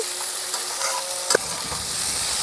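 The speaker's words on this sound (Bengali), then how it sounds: "দিয়ে দেবো একটা ছোট টমেটো, ছোট ছোট করে কেটে নিয়েছি, দিয়ে দিচ্ছি" Chopped small tomato hits hot frying spices in a pan for a Bengali cauliflower and fish curry, giving a loud, close, steady sizzle with a brief sharp clatter near the middle.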